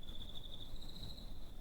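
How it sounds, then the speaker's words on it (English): Crickets on an overgrown hill trill in a steady, continuous high chirp, moderately close, alone against a soft low background hum. "Crickets chirp at our feet."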